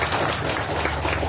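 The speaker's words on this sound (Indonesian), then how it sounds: "Kita tepuk tangan dulu." A crowd at an Indonesian community thank-you gathering breaks into applause, a brief, dense wash of clapping heard up close.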